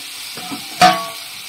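Previously fried potatoes dropped into a hot pan with eggs and peas, setting off a single loud burst of sizzling after a soft stir, the hiss then easing into a steady background fry.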